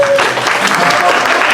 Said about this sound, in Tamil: கரகோஷமா பயங்கரமா இருக்கு